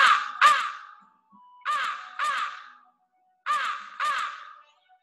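A crow caws in three quick pairs of harsh, loud calls, separated by short silences, close and alone.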